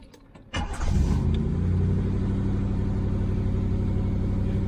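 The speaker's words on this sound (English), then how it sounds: "Now both chokes are off, let's see what the idle speed is like now." A Triumph Stag engine with Stromberg CD175 carburettors and both chokes off catches with a burst, then settles into a steady, fairly fast idle with a loud, even low rumble.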